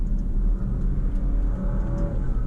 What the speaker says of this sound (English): that's just downshifting and accelerating.